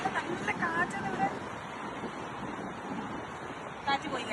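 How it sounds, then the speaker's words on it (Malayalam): Strong wind gusts buffet a microphone outdoors, producing a low rumbling roar that swells in bursts, loudest at the start and again near the end, with faint voices and background babble underneath. "നല്ല കാറ്റാണ് ഇവിടെ."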